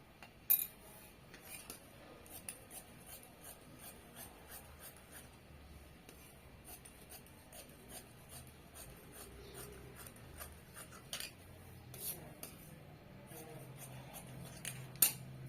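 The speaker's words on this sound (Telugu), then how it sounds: "మనకి క్లాత్ ఉంటే ఇంకొక లేయర్ కట్ చేసేద్దాం" Scissors cutting through a layer of blouse lining cloth, faint, sparse snips and crisp clicks scattered irregularly over a quiet room.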